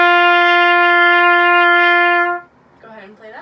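A steady sustained trumpet note held for about two and a half seconds, clear and loud, then cut off, followed by a brief quiet voice.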